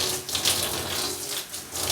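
Water runs steadily from a faucet while hair product is being rinsed out, a close, constant splashing flow with no talk.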